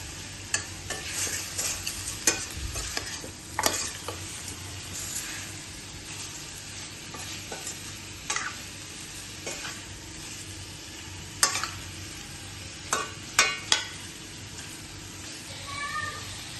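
A sizzling pan of spinach curry being stirred after pepper is added, soft frying hiss under irregular scraping and clinking strokes of a spoon, with a cat meowing faintly nearby.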